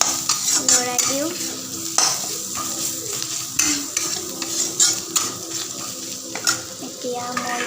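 Rohu fish curry being stirred in a pan, a spoon scraping and clinking against the metal over a steady sizzle and frying hiss, with repeated close stirring strokes and no talk.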